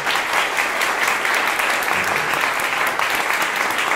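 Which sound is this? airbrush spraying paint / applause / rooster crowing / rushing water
applause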